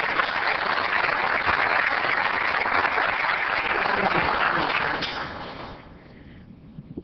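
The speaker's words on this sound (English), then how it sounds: "I want you to give these people a round of applause" An audience at an Oceanside city council meeting gives a sustained round of dense clapping that holds steady for about five seconds, then thins and fades out with a few scattered claps.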